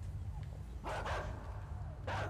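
A dog barks in the video game Inside, a few short barks at moderate distance over a steady low rumble of game ambience.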